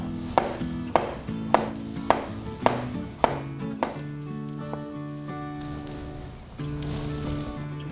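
A knife slices a halved cucumber into sticks for homemade sushi: about eight crisp, evenly spaced chops on a board, then a quiet pause, all over a soft steady tonal background.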